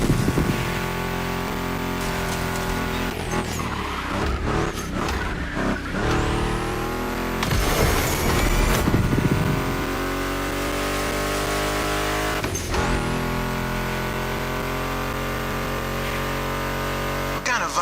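A Mustang GT muscle car engine in The Crew Motorfest racing game roars steadily and loudly, with revs rising and falling through gear changes and brief tire squeals, while a voice talks over it at times.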